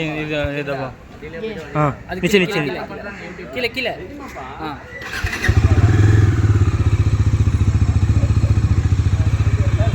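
A person talks while a motorcycle is started, and after about five seconds the engine catches and settles into a loud, steady, close running throb.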